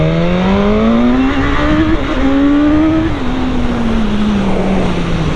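2018 BMW S1000RR motorcycle engine accelerating on an urban ride, a loud close roar climbing in pitch with a brief gear change midway, then easing slightly while the engine holds a strong drone.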